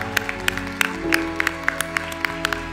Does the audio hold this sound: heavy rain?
no